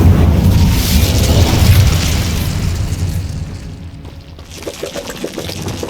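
Incendio fire spell cast in Hogwarts Legacy on Xbox Series S, a loud booming burst of flame that roars, then fades over a few seconds before a quieter crackle.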